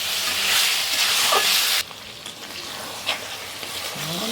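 Chicken pieces being stir-fried in a pan with salt while cooking chicken korma, with a loud steady sizzle that drops sharply partway through, followed by softer frying and occasional scrapes of stirring.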